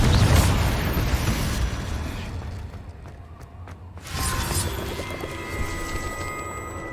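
Confringo blasting spell detonating in Hogwarts Legacy, a loud booming burst at the start that fades into a low rumble, then a second crackling impact with lingering ringing tones, no voices.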